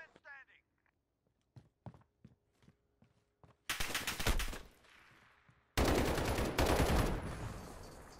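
Rapid automatic gunfire in a video game rings out in two loud bursts after a stretch of sparse clicks and footsteps, with a voice speaking near the start.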